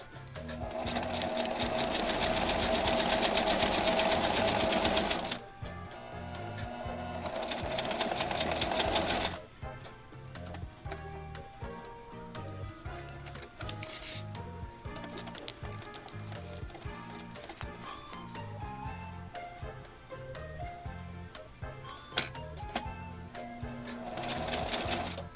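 Domestic sewing machine stitching quilt blocks for a diamond-in-a-square pattern, running in two loud, steady bursts of about five and four seconds, then quieter intermittent whirring and handling sounds with a final short run.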